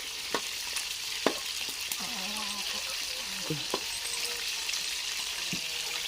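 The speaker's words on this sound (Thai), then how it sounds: "ทอดหมูด้วยจ้า ทอดหมู" Pork frying in oil in a pan at an outdoor morning meal, a steady crackling sizzle throughout with occasional sharper pops and a faint melodic sound in the background.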